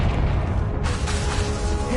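Confringo explosive spell in the Hogwarts Legacy video game, a loud booming burst that hits sharply partway through over constant low battle rumble.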